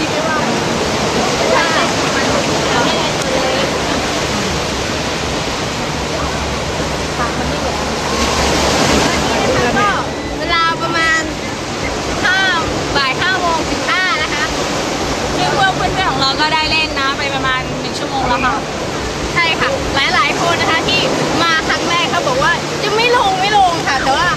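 Sea waves roll onto a Thai beach during a school seaside trip, a broad, steady surf roar that fills the whole clip, with people talking and calling out over it from partway through.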